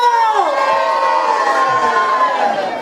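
A crowd at an outdoor orchestra show in San Tirso de Mabegondo shouts and cheers together in one loud sustained roar, many voices rising and holding steady.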